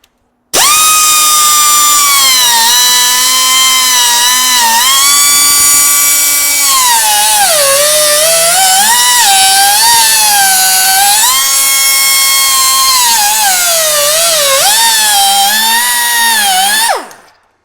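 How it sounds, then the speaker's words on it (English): A die grinder with a cutoff wheel trims Jeep fender flares, giving a loud, steady high-pitched whine that runs continuously for about sixteen seconds, its pitch dipping and rising as the wheel bites into the plastic. "it's easiest just to trim them with a die grinder with a cutoff wheel"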